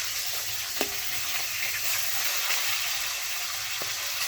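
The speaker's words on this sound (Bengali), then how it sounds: "তো 3টে ভাজা হয়ে গেছে, আর এই 3 পিস আর কি ভাজছি।" Pieces of fish fry in a pan with a steady, close sizzle and hiss, broken by a few small pops and spatters, and no one speaking.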